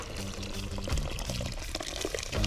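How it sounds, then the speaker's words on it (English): Coconut milk pours into a pot of Jamaican rice and peas at an outdoor riverside cook-up. A soft, steady liquid splash runs throughout, close by and fairly quiet. "Adding the coconut milk."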